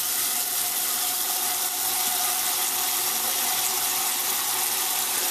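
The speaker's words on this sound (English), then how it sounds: "in a bowl here, what I have, the 2 cups of rice, and I'm just gonna fill it up" Tap water runs steadily into a bowl holding two cups of rice, a continuous close hiss and splash at even loudness throughout.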